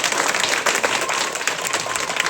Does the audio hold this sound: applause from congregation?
yes